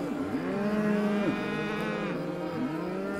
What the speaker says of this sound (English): He's met with one cow,